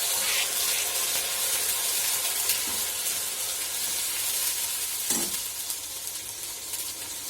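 Onion tempering with tomato, chili, ginger and garlic paste sizzles in a hot pan, a bright steady hiss with a few louder crackles and stirs, no voices.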